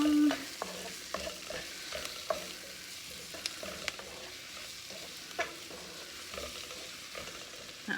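Onions and pepper frying in a pan sizzle softly while being stirred, with repeated scraping and clattering strokes of the utensil over a steady low hiss.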